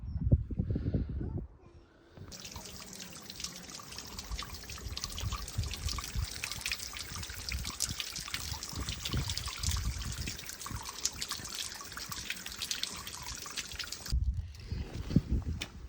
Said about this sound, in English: if I spray water straight here, around this area anyway, bottom of the windshield here, that causes the leak quite strongly